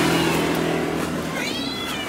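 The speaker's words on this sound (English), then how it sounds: "Is there a cat in here?" A cat meows indoors in Athens, Greece: one drawn-out, close meow with a rising then falling pitch, heard alone and fairly loud over a faint low hum.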